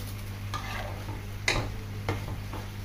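A spoon stirs ingredients into a pot of Filipino mung bean stew (ginisang monggo), giving a few soft scraping and clinking strokes over a steady low background hum and faint sizzle.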